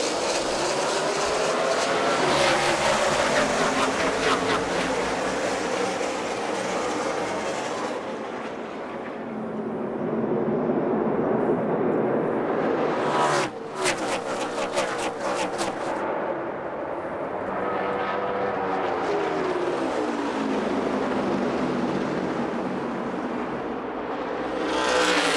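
NASCAR stock cars roar around Phoenix Raceway during the 2012 Advocare 500, a loud continuous engine drone with a sharp pass-by swell midway and rising, falling pitch as the pack speeds by.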